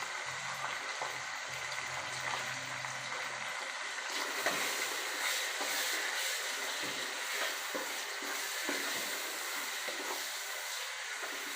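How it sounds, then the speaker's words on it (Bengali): Chicken meat fries in a pan for Bengali khichuri, a steady loud sizzle and crackle that continues unbroken, with small pops scattered throughout. "মুরগির মাংসগুলো ভালোভাবে ভেজে নিচ্ছি।"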